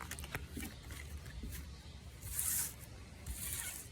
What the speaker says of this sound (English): I'm going to shuffle them again.